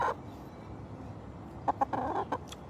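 Chickens, large hens kept with small chicks, cluck softly. There is one brief cluck at the start and a short burst of several clucks near the end, over quiet background noise.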